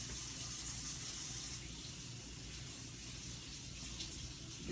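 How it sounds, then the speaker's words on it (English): Hands are washed under a running tap, a steady close stream of splashing water that flows evenly without pause and without any talking. "you want to wash your hands"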